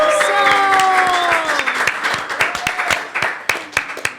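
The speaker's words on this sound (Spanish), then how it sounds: "un aplauso a todos los que estamos aquí" Audience applause welcoming a guest, Jessica Amaya, at a Spanish-language gathering; sustained clapping from a crowd under a sung or spoken voice, thinning into scattered individual claps toward the end.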